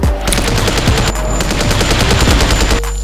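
EVA-01 firing a rapid burst shot in the Roblox game Kaiju Universe: a loud, continuous, close stream of video-game gunfire lasting about three seconds, then stopping abruptly, with no speech.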